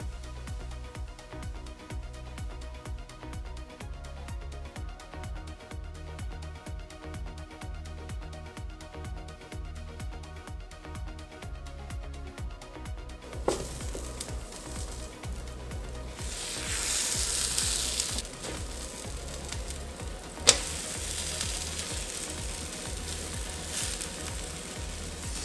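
Vanilla protein pancakes with strawberries frying in a pan, a soft steady sizzle that swells louder midway after batter hits the hot surface, with a couple of sharp clacks, no talking.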